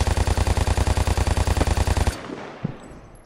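Automatic weapon fire in Call of Duty Warzone: a loud, rapid, steady burst of evenly spaced shots for about two seconds, then abrupt stop with a fading tail and one faint thump.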